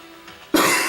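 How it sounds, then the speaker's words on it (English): One sudden, harsh cough bursts out loudly and close after a quiet moment. "I've been having this really bad cough lately."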